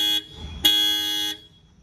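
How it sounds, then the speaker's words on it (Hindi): Horn of a Maruti Brezza LXI CNG car, two loud, close, steady honks, a short one followed by a longer one after a brief gap. "तो भाई इसका हॉर्न सुनाते हैं एक बार"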